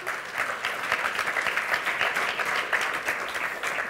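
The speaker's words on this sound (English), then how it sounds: "maybe we should just give a round of applause" Steady applause from an audience at a scientific conference talk, a dense wash of many hands clapping at close range that holds evenly throughout with no voices over it.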